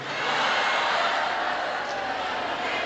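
Applause from a religious gathering audience in Indonesia, a dense, steady patter of clapping that swells quickly and holds loud and even throughout without a break.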